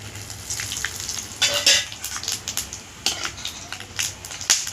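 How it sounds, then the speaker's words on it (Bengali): Whole spices, dried chilli, cumin, bay leaf and garam masala, spit and crackle as they hit hot oil, with a steady close sizzle broken by sharp popping bursts and light utensil clinks. "কী কী ফোড়ন দিচ্ছি দেখুন, শুকনো লঙ্কা, জিরে, তেজপাতা আর গোটা গরম মশলা,"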